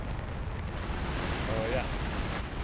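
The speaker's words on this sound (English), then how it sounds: "Bomblets are blowing." Cluster bomblets from an A-10 strike burst in the distance as a dense, rumbling roar with wind-buffeted low noise, heard through a continuous wash of sound with no distinct individual blasts.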